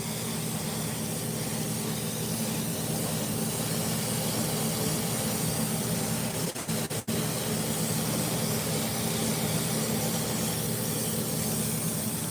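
Paint spray gun on lowered air pressure spraying single-stage satin black onto the firewall of a 1963 Chevrolet Impala, a continuous close hiss with a brief interruption midway and no talking.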